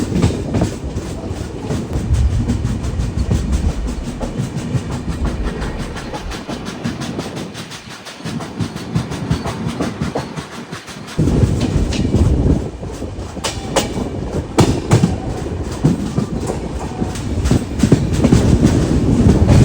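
Passenger express train 16316 from Thiruvananthapuram North heading toward Mysuru on the Bangalore–Mysore stretch near Maddur, heard from on board: a loud, continuous rumble with rhythmic clickety-clack of wheels over rail joints, briefly dipping before growing louder again.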